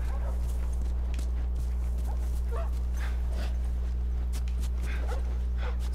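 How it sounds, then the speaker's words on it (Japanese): Several dogs bark and yelp intermittently at a distance in The Last of Us, faint, scattered calls over a constant low ambient drone and light footstep-like sounds. "さあ、あのワンちゃんたちがどんな感じか。"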